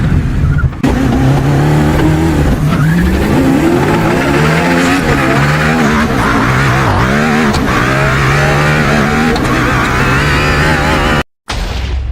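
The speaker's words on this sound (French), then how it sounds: "on a une voiture de fou. Let's go tester la voiture." Car engine in the Roblox video game, a loud, steady motor drone that rises and falls in pitch as the vehicle drives and revs, running continuously with a brief cut near the end.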